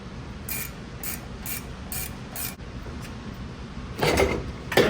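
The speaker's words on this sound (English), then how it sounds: "Upper control arm bolt is going to be an 18 millimeter." A ratchet clicks in short bursts while loosening the 18 mm upper control arm bolt on a 2023 Chevy Colorado Z71, several quick rasping pulls close by, ending with a louder clunk as the bolt breaks free.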